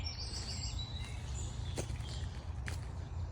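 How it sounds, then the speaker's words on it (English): Birds call busily at a nature reserve near reeds, with faint scattered chirps and a few sharp high notes over a steady low outdoor rumble, no one talking. "So, listening to all the bird activity. It's very busy."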